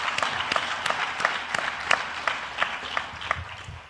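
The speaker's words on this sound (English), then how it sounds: "she deserves another round of applause" Conference audience applause for a Chief Diversity Officer, a steady crowd of clapping with distinct individual claps standing out in an even, sustained round.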